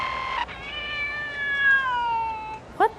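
A cartoon virus kitty from ReBoot lets out a long, drawn-out meow that slides downward in pitch, followed by a short chirpy mew, close and clear with faint background noise.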